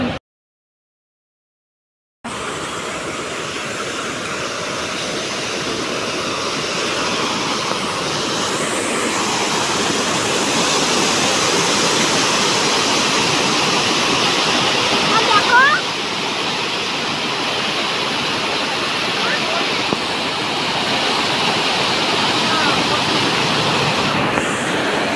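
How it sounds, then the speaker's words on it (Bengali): Waterfall roaring steadily in Bhutan, a loud continuous rush of falling water heard up close, with a moment of near silence at the start and brief voices faintly audible over the roar. "আমরা এখানে যাচ্ছি ঝর্ণার সামনে"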